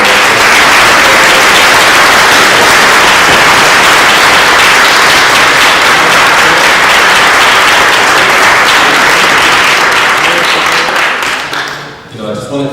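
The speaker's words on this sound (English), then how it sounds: "let's give everyone a round of applause" Loud, dense audience applause at the 2013 Win-TV Ollie Awards ceremony, a crowd clapping continuously for about twelve seconds before tapering off at the end.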